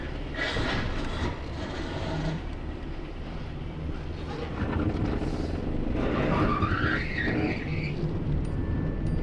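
Tires of a lowered Honda Civic rubbing against the wheel wells while driving, a rough scraping hiss over road and engine rumble, with a squealing rub swelling near the end.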